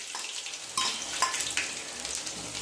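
Chopped garlic fries in a pan, giving a soft, continuous sizzle with a few sharper crackles and spits over a few seconds, close by and moderately quiet.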